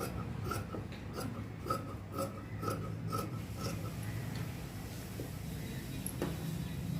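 Scissors cut blouse fabric along drawn chalk markings in a series of crisp snips and rasping strokes over a steady low background hum, with no talking.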